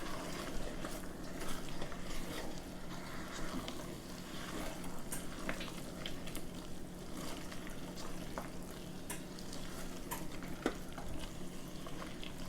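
Chicken pot pie filling with frozen vegetables stirred in a pan just off the heat, a steady close scraping and soft wet churning with faint bubbling underneath, no voices.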